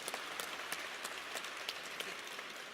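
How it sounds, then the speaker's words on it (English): A crowd at a university football coach introduction gives a warm round of applause, steady clapping from many hands that carries on through the whole stretch at moderate distance, no voices heard. "give Mr. Howard a warm round of applause"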